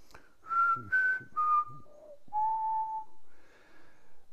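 A few clear, flute-like whistled notes of a pied butcherbird, rising and falling, with short pauses between phrases, fairly close in a quiet setting.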